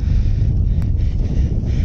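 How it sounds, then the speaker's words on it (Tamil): Wind blows steadily and loudly across the microphone outdoors in Besharyk, Uzbekistan, where a kite is being flown, a continuous low rumbling buffet with no break. "காற்று நல்லாயிருக்கு."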